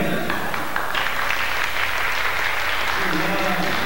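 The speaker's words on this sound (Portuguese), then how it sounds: "vamos aplaudir o meu amigo Sinhão, que está chegando por aqui" Audience applause for honoree Sinhão (Alcindo da Rocha) at a Santa Bárbara singing-show tribute, a steady wash of clapping lasting the whole moment, with a voice speaking over it.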